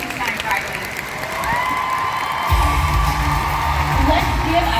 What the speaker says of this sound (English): Let's give another round of applause for Independent Executive National Sales Director, Pamela Waldrop-Shaw.